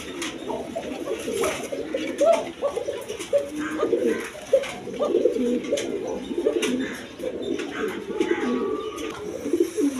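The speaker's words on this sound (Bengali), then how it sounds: "দর্শকবৃন্দ, এখানে এক পেয়ার 8 এঞ্জেল কবুতর আছে।" A pair of angel pigeons for sale coo steadily and close by, soft overlapping coos repeating throughout with faint background chatter and a few higher chirps.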